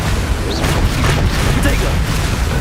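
Confringo spell explosions in Hogwarts Legacy, dense booming blasts and rumbling bursts under a player's spoken voice, loud and continuous throughout.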